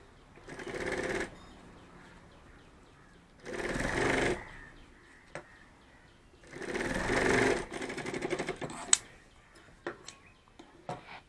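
A sewing machine stitches a bag handle in three distinct bursts of rapid mechanical whirring, each lasting about a second, close by, with small clicks and handling noises between runs.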